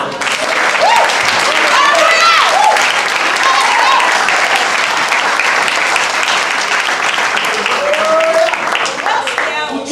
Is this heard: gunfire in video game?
no